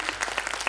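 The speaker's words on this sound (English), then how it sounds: "So a big round of applause to our authors" Brief burst of audience applause at a defence literature festival, a short spatter of claps over a faint room hum, fairly steady and moderately close.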